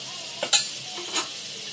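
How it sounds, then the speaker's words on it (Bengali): Potatoes dropped into a hot pan with a splash of water, a brief close sizzle with a couple of quick stirring scrapes, alone and short. "আলুগুলো ছেড়ে দিলাম, নেড়ে চেড়ে"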